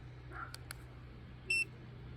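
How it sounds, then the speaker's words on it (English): A Flow Pro pressure washer gives one short electronic beep as it switches on, clear above a low steady engine hum, preceded by a few faint clicks. "That beep indicates that it came on."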